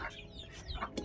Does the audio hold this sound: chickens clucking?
yes